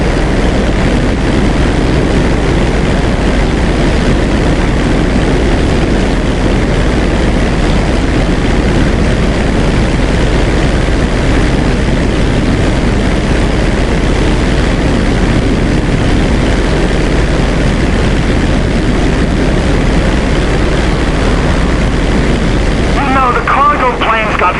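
A crop duster plane's engine drones steadily and loudly throughout in GTA 5, a constant propeller hum with voices talking over it.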